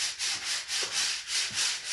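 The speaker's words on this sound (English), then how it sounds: "Yeah, I'm sanding it" Wood being sanded by hand with 400-grit sandpaper, a close rhythmic scratchy rubbing in even back-and-forth strokes, about three per second.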